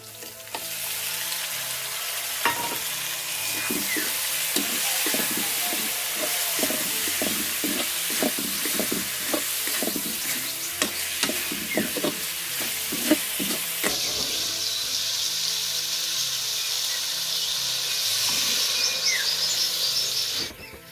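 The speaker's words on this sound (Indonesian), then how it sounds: "Kita masukkan bawang serai dan jeruk." Onion, lemongrass and lime sizzle steadily in a hot pan for a Sundanese warm rice dish, a continuous frying hiss broken by repeated clicks and scrapes of stirring, with no talking.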